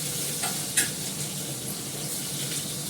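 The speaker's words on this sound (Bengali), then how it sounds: "এখানে পেঁয়াজটা ভাজছি, একটু আদা বাটা দেবো, সেটা একটু নাড়িয়ে নিই।" Onion and potato fry in a little oil in a pan, giving a continuous sizzle with a spoon scraping and stirring through it and one sharp clink near the start.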